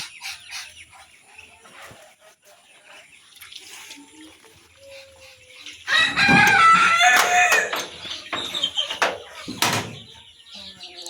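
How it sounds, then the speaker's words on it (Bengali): Native chickens on a farm, thirteen days old, make soft clucks and chirps at first, then a loud burst of squawking and crowing about halfway through, close by and rising and falling. "আর এখানে আছে আমার দেশি মুরগি"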